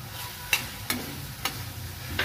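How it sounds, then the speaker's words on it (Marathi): Prawns (kolambi) sautéing in a pan with spices and lemon juice give a steady soft sizzle broken by four sharp stirring scrapes at roughly even intervals, close and fairly quiet, with no voices. "जरा कोलंबी चांगली परतून घ्यायची."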